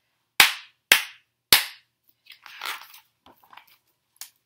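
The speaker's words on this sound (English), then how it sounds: "can you clap 3 times?" Three sharp, close hand claps in even succession during a children's book reading, each crisp with a quick decay, followed by faint rustling and a soft tap.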